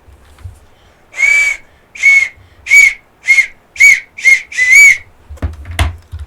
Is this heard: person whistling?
yes